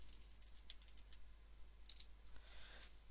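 Someone types a password on a computer keyboard, with soft, faint keystrokes in uneven little runs and a short cluster near the end.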